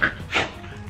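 A dog whimpers and pants close by indoors, short high whines in two quick bursts over soft breathing, lasting about a second.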